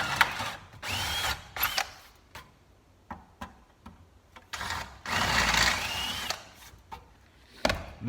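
A power drill with a 1/4 inch bit runs in short, loud bursts while fitting an electric fan on a 1966 Chevy truck, several brief whirs and one longer steady run close by, with mechanical clicks in between and no talking.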